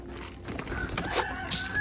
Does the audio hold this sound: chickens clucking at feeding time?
yes